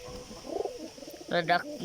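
Pigeon cooing close by in two short throaty bursts, the second pair louder, with a soft voice speaking briefly beforehand.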